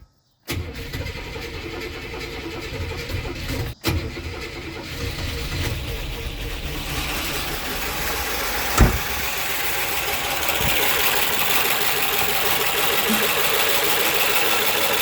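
A Buick Skylark that had sat unused for decades, fitted with a new coil after a no-spark fault from bad points, cranks briefly, catches and settles into a loud, continuous rough running close by.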